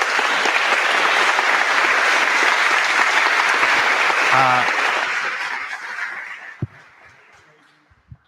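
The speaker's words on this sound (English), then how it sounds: "please give a huge round of applause." Large audience giving a loud, sustained round of applause at a conference presentation. The clapping gradually fades out near the end, and a brief sharp knock follows.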